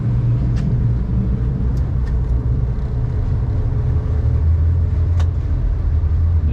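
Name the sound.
twin Yamaha F250 outboard engines on a Defiance 270 Admiral boat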